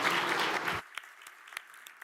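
Conference audience applause starts as a loud burst of clapping, then quickly thins to a few scattered, separate claps after less than a second.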